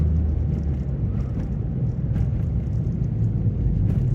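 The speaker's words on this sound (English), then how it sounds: "What is in there that is rattling like that?" A Volvo V70 rumbles along a road with a steady low engine and road drone throughout, faint intermittent rattles ticking from inside the cabin over the continuous hum.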